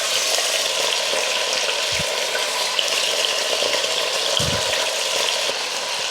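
Chicken pieces fry with shallots and onions in a hot pan, giving a steady dense sizzle with a couple of low thuds and stirring sounds, close and without talk.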